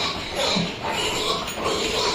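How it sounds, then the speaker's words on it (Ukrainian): Piglets squeal and grunt in a dense, continuous chorus, several animals close by at once with no pauses. "Така кількість поросят у нас була від двох свиноматок."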